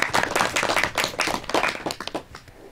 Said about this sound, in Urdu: آپ سب کی بھرپور خاموشی میں تالیاں بجا دیں